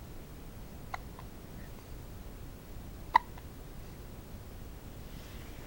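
Two or three faint, short hiccups stand out at separate moments against a quiet background hiss, with one sharper hiccup in the middle.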